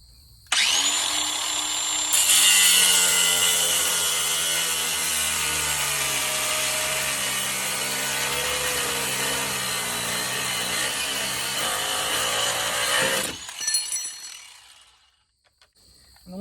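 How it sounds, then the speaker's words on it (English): An angle grinder cuts through a metal fitting on a rolling-wheel fuel tank, giving a loud, steady high-pitched whine with a grinding edge. It runs for about thirteen seconds, then cuts out and winds down to quiet. "I need to cut this off. I'm going to use an angle grinder."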